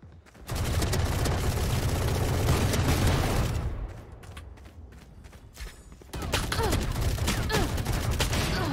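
Rapid gunfire rattles in a shooter video game, loud and sustained bursts of automatic fire that pause briefly for quieter action before the shooting resumes.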